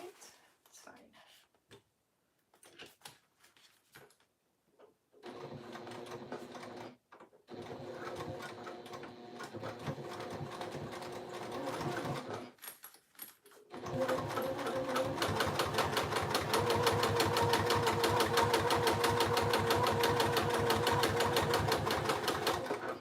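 A sewing machine top stitches a fabric pouch, starting after quiet moments with soft voices, then running in short bursts with pauses before a longer, louder steady stitching run close by.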